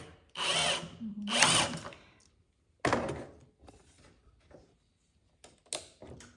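A power drill drives two screws into a wooden wedge support for a DIY couch armrest table, giving two loud whirring bursts in quick succession, then a third shorter run and a few faint clicks and taps.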